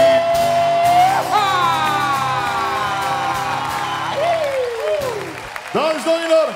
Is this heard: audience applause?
yes